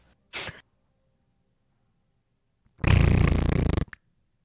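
A voice imitates a fart with a short buzzy blurt, then after a pause a longer, louder rattling raspberry lasting about a second, close and alone.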